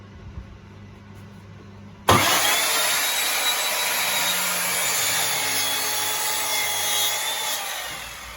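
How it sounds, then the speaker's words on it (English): A wood planer starts up abruptly, then runs as a loud, steady, high-pitched whine while boards are cut and fed through it, with no one speaking. "we're going to run them through the planer"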